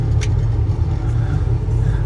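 A hay loader's engine runs steadily while hauling round bales, a loud, continuous low rumble close by with no voices over it.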